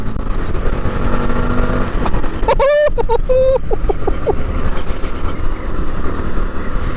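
An Indian FTR1200 motorcycle pulls hard in fourth gear, its loud, steady engine roar mixed with heavy wind rush and a brief rising tonal whine partway through.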